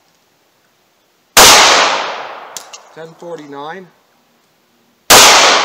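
Two loud, close 9mm pistol shots from a 3-inch barrel firing Underwood Maximum Expansion rounds, each a sharp crack followed by a short decaying ring, about four seconds apart, with someone briefly speaking between them.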